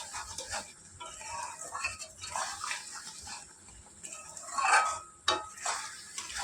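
Spiced mango pickle being stirred in a pan after roasted spice mix is added, giving a steady scraping and clinking of a spoon against metal with a few sharper knocks, fairly close with no talking.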